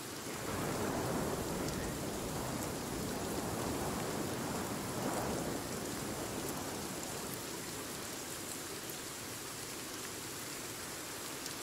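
Steady heavy rain pours down in a video game survival world, a dense continuous hiss with low rumbling thunder rolling underneath, loud and unbroken throughout.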